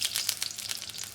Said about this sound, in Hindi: यहाँ मैंने एक वॉक चढ़ाया है और इसमें मैं 1 कप घी डाल दूँगी